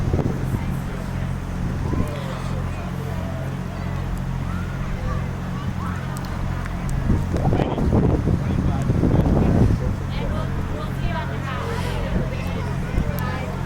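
Strong, freezing wind buffets the microphone outdoors at a night high school football game, a constant low rumble with gusts swelling midway over distant crowd murmur.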